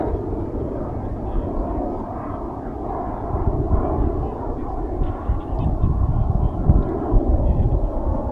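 An airplane passes over Midway Regional airport with a steady, broad engine roar that swells slightly toward the end, buffeted by wind on the microphone.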